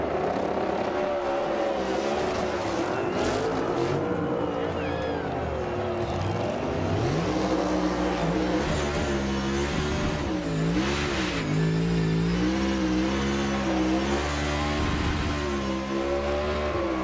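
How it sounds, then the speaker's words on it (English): NASCAR Cup Series car doing a burnout after the championship race, engine revving hard and wavering continuously with tire squeal, loud and close for the whole stretch. "Flag's not going to survive this burnout."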